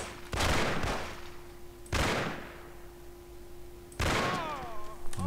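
Three separate loud gunshots in the game Mafia, each a sharp blast with a decaying tail, spaced about two seconds apart over a steady low hum, with no talking.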